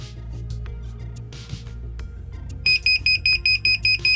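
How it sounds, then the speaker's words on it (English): A VEVOR clamshell hat heat press with a curved element sounds its timer alarm, a run of sharp, regular high-pitched beeps that starts partway through and repeats evenly over a low steady hum. "There's our timer."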